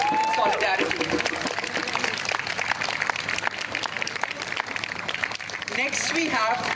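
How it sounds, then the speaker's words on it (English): Crowd at a protest against the Transgender Amendment Bill at Azad Maidan, Goa, clapping together in solidarity; dense, steady applause fills the whole stretch, with voices mixed in throughout. "Let's please clap in solidarity."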